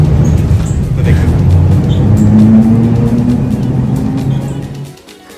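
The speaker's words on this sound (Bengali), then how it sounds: "তো আমরা আবার ট্রাম 1-এ চলে এসেছি।" Porto's tram 1 rolls along its route, heard from on board as a loud, steady low rumble with a faint rising motor whine. The rumble fades out abruptly near the end.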